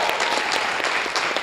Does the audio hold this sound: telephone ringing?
no